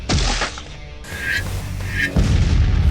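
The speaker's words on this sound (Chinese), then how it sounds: "又是这种毁灭一切的高射炮" Anime anti-aircraft cannon firing in a monster battle scene, heavy booming blasts with sharp whistling streaks, close and loud over dramatic sound effects.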